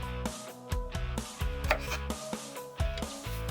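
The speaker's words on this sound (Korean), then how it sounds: "먼저 양파를 잘게 다집니다." Onion and garlic finely chopped with a knife on a board, steady rapid blade taps in quick bursts, close and alone without talk.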